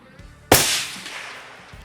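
A hunting rifle's cold bore shot fires once on a safari hunt: one sharp, loud crack with a long rolling echo that fades over the following second, set against quiet open-air background.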